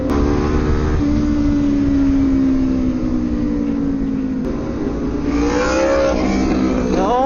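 A Kawasaki ZX6 street bike engine revs loudly up close during a downtown group ride, its pitch climbing and falling in a couple of sweeps over several seconds.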